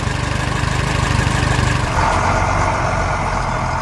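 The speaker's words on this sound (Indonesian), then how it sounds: "traktor biru melintas di tengah tanah berbatu." An animated blue tractor drives across rocky ground, its engine a loud, steady mid-pitched throb that chugs evenly and shifts slightly in tone partway through, with no voices.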